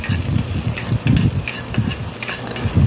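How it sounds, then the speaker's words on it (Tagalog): Garlic and onion sauté in hot oil in a pan for chicken adobo with pineapple, giving a loud, close, rumbling sizzle with bursts of stirring. No talking is heard. "Nagigisa na pala ako ng bawang at sibuyas."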